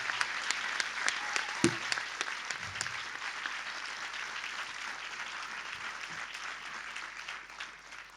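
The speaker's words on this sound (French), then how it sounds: "Vous pouvez vraiment les applaudir parce qu'ils ont fait un travail formidable." Steady crowd applause at a film awards ceremony, a sustained wash of clapping at moderate level with a few isolated bumps, gradually easing toward the end.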